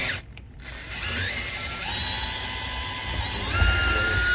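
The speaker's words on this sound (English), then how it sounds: "And now I'm going to drill the bigger hole." An electric drill bores a larger hole for a model railway turnout, its high whine starting after a brief pause and holding steady up close, the pitch dipping and rising as the bit cuts.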